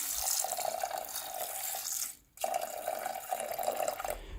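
Water pours steadily into buckwheat being cooked in a Norwegian cabin kitchen, a close, splashing stream that cuts off briefly midway and then resumes, with no talking.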